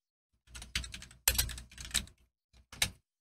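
Quick bursts of keystrokes on a computer keyboard, loud and close, clustered in several short runs with brief pauses between them and no talking.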